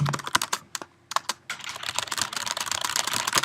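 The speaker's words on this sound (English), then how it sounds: "we can be typing at the same time" Rapid, uneven clatter of keys on a computer keyboard, close up, with a brief pause before steady typing resumes.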